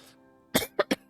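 A person coughs three times in quick succession, close and fairly loud, with a short hum of background noise before it.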